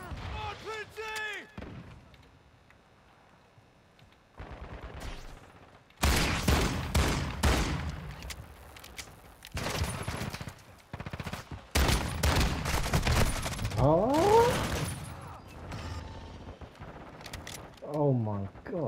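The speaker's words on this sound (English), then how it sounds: "Artillery!" Video game artillery fire and other gunfire break out as loud, repeated blasts and bursts in the middle of the clip, with voices talking over and between the shots.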